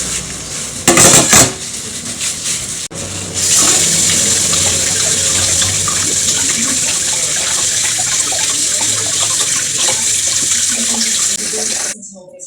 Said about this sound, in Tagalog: So ngayon, maghuhugas tayo sa chicken.